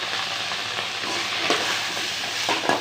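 Shallots frying in oil give a close, continuous crackling sizzle with small bursts as they are stirred.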